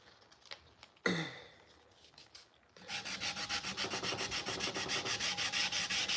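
Hand sanding with sandpaper wetted with Tap Magic cutting oil: a single scrape, then a steady run of rhythmic back-and-forth rubbing strokes, close and even.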